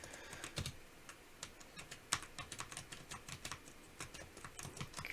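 Mechanical Razer Huntsman keyboard keys clacking in a steady, rapid stream of close, crisp presses with occasional louder strikes, typed during play of Black Mesa with the lighting active at 1000 Hz polling.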